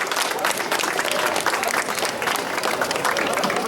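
At a children's music programme at the Ilinden festivities, the crowd claps for the young performers in a full, steady round of applause, loud and close, with a faint voice mixed in.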